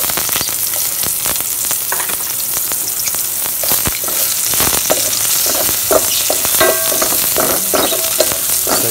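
Garlic and onion sauté in a hot pan, giving a dense, steady sizzle close up, with scraping and clattering stirs growing more frequent toward the end. No one speaks.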